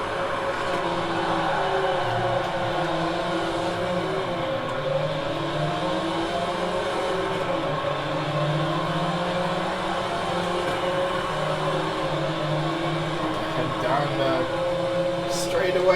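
Race car engines at a standing start in Project Cars 3, a steady droning roar of several engines with shifting pitch as they rev and accelerate, loud and continuous under talk.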